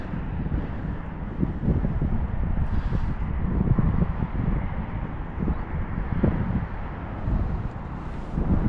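A northerly wind during bass lure fishing buffets the microphone with a steady, loud low rumble and rushing noise that swells and eases throughout, with no other clear sounds.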